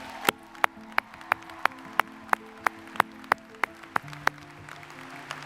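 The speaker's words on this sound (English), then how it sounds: "Give yourselves a round of applause" Graduates at a virtual college graduation clapping for themselves, heard as a few sharp, evenly spaced claps in a slow steady rhythm, fairly close and sparse rather than a full crowd, over a low hum.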